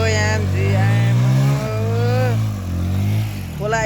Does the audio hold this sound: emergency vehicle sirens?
no